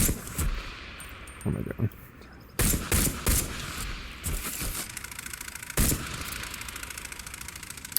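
Pistol fire in ITR2, several sharp separate gunshots in an uneven sequence over a low background hum, with a voice speaking briefly between shots.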